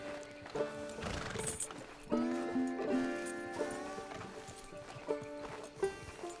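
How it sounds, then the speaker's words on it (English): In the video game Red Dead Redemption 2, a very big horse's hooves clip-clop steadily as it walks, and a loud whinny rings out over the hoofbeats. "That is a really big horse."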